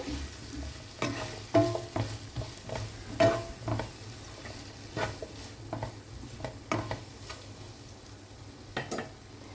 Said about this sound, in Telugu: ఈ మష్రూమ్స్లో ఫస్ట్ సాల్ట్, దెన్ కారం వేసేసి బాగా తిప్పుదాం